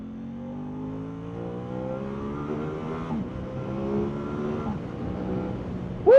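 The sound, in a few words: Aprilia RS 660 motorcycle engine accelerating while riding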